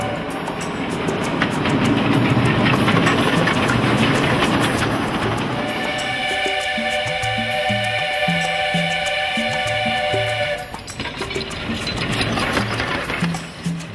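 Garratt steam locomotive of the Banana Express running in reverse, heavy rumbling rail noise giving way to rhythmic clickety-clack wheel beats and a sustained high squeal from the wagons, steady and close.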